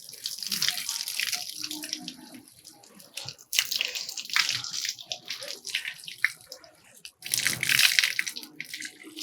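Running water while hair dye is rinsed from a man's head, a loud splashing stream from a tap broken by brief pauses, with faint drips and some background noise.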